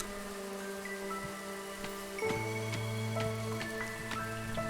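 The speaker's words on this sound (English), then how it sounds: "Now, we're back in the drizzle." Light drizzle patters softly in the video game Against the Storm, a faint, steady rain texture mixed with sustained game music tones and occasional soft clicks, with no talking.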